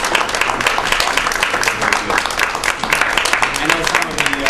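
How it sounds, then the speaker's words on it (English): A large group at a meeting gives first-time visitors a round of applause, dense steady clapping filling the room for several seconds, loud and continuous with a crowd murmur underneath. "let's give these first-timers a big round of applause."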